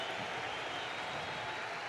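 World Series baseball crowd at a stadium during Game 6 of the 2013 Cardinals vs. Red Sox matchup, a dense, distant wash of cheering and applause held steady throughout.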